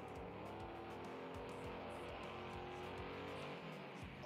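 The monster truck Avenger's engine roars loud and constant through a Monster Jam run, a steady high-revving drone with rhythmic pulsing, heard without any voices over it.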